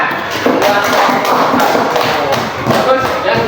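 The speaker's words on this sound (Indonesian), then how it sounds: "Tepuk tangan." A school class claps after student presentations, a loud, dense, ragged patter of many hands close by, with thuds and a faint voice mixed in.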